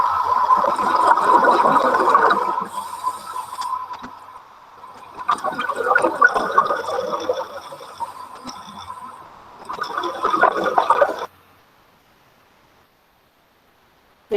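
Scuba bubbles underwater in a cold kelp forest, a diver wearing a drysuit: three loud close bursts of bubbling and rushing air, separated by quieter pauses, ending in near silence.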